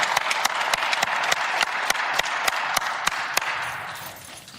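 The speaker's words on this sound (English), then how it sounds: "Give her a big round of applause." A crowd applauds before a family member addresses a press gathering, with crisp, sharp claps standing out above a steady wash of clapping that tapers off toward the end.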